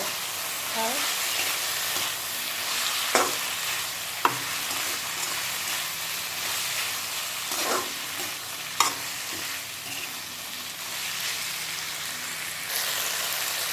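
Boiled potatoes and chopped outenga with salt and turmeric stir-fry in a pan under a steady, rain-like sizzle, broken by several distinct scrapes and knocks of a spoon stirring close by.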